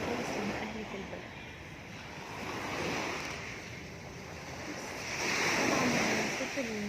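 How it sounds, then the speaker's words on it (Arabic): Sea waves break and wash along the Alexandria shore in a continuous soft roar that swells and eases, with wind buffeting the microphone and faint voices blended in. "طبعا صوت الموج والبحر جميل"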